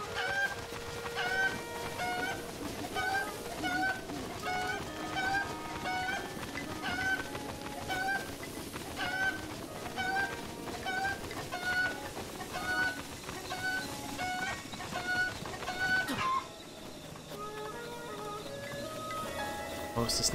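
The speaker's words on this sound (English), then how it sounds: "There's usually a chicken in the barn. Maybe I'm wrong. Oh, there it is." A chicken in the video game Breath of the Wild clucks repeatedly at a steady, even pace. It sits over a dense layer of game music and ambience, and near the end the background shifts.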